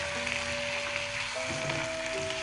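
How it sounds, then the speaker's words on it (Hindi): Spiced potato masala hits hot oil with cumin seeds in a pan, giving a steady, close sizzle and hiss that carries on evenly without any voices. "अब इसमें हम ये आलू की जो हमने मसाला बनाया था वो डाल देंगे"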